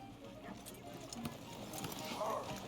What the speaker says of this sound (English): Let's go ahead and hitch our horse.